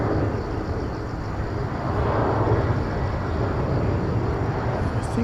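Air Busan airliner arriving at Incheon airport, a broad steady jet roar rising slightly and holding, fairly loud and continuous with no talk over it.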